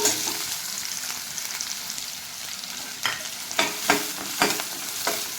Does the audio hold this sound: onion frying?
yes